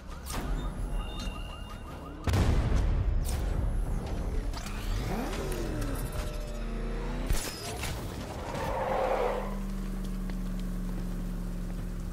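In the video game Batman: Arkham Knight, the Arkham Knight's vehicle swerves with a whooshing engine and then slams into a crash with a sudden loud impact, followed by scraping, rattling debris and a lingering hum.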